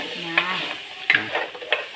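Crab sizzles steadily in a hot frying pan while a utensil stirs it, with several light scraping clicks against the pan.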